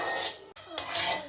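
Dry mung dal tossed in a kadai, a brief close rattling scrape of grains and utensil against the metal pan, broken by a short pause midway.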